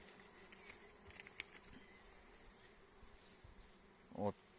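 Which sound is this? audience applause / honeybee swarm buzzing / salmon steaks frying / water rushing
honeybee swarm buzzing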